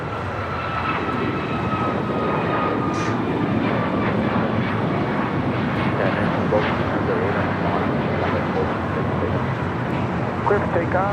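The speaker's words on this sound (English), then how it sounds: "Next takeoff is United Airlines Flight 417 heading to Kahului, 737 MAX" A United Airlines Boeing 737 MAX 8 takes off at LAX, its jet engines a broad, sustained roar that holds steady throughout, with faint voices in the background.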